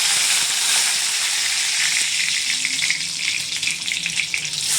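Mustard seeds and curry leaves sizzling in hot oil for tomato thokku, a loud close bright hiss of frying that holds steady throughout with faint crackles, no voices.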